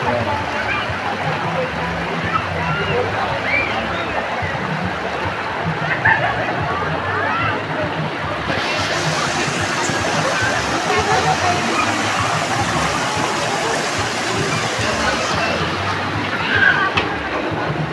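River water rushing steadily around a small boat in the middle of a river, a loud continuous broadband wash with a brief hiss swelling partway through, no other sounds standing out.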